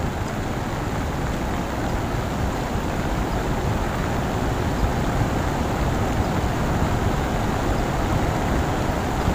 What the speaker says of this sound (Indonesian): ini suara gemuruh dari bebatuan terdengar sekali dari sini ya